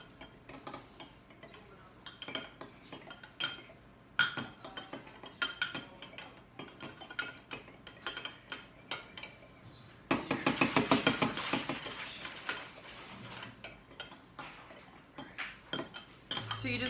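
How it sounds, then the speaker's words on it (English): A hand whisk beats eggs in a bowl, crushing the yolks and mixing them for buttery rolls: quick, steady metallic clinking and tapping against the bowl, close and continuous, with a denser burst of rapid strokes partway through. "get a hand whisk and just beat those together"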